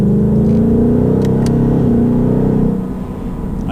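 A 2018 Ford Mustang GT V8 pulls through a turn in sport mode, its engine note rising in a loud, close, steady drone before easing off near the end, with no voices.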